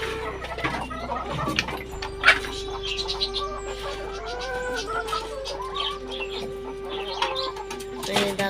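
Native desi chickens cluck and chirp while being fed at a backyard poultry setup, with several birds calling close by in irregular bursts and faint voices in the background.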